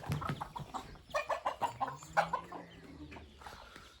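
Several chickens cluck nearby in quick, choppy bursts as they are given feed, a busy overlapping chorus of short calls.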